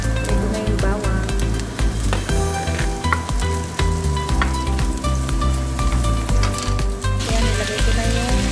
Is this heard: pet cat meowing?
no